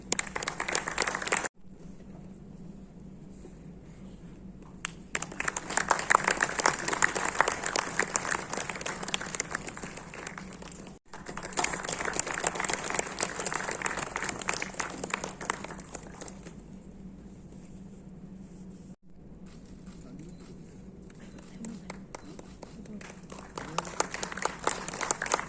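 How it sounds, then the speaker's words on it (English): Audience applause welcoming a guest at a film festival masterclass on the cricket biopic 800, sustained clapping from a large crowd, steady and fairly loud across the stretch with brief breaks. "With a big round of applause, please welcome Mr. Madhurr Mittal."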